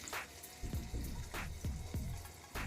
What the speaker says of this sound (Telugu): ఇలా కొంచెం వాటర్ వేసుకుందాము